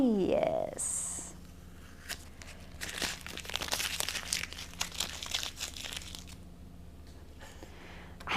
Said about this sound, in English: I always get crinkled tape like stuck to everything